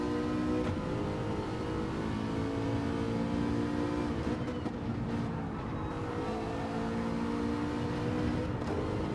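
Race car in the Gran Turismo 7 video game during Gr.4/Gr.3 lobby racing, its engine droning and revving steadily throughout, loud and continuous with a brief dip and climb midway.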